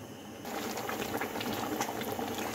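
Tomato sauce boils and reduces in an open pot, giving a steady dense bubbling and popping that continues without pause, close by and at moderate volume with no voices.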